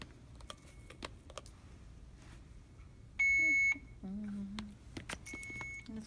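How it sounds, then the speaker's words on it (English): Electronic beeps from an infusion pump alarm falsely reporting an occlusion, a loud sustained tone followed by a lower beep and more faint tones, over quiet background noise. "they were having problems with this pump earlier. Making all those beeping noises."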